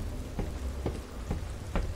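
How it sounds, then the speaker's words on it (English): Steady rain patters in the horror game Fears to Fathom: Ironbark Lookout. Four evenly spaced soft thuds, likely footsteps, land over the constant wash of falling water. "I gotta go out in the rain."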